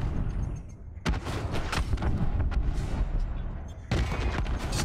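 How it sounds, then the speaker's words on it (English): Repeated heavy booms and blasts of game explosions burst in close succession, loud and dense, with only a brief lull before another barrage. "Just listen to the sounds of the explosions."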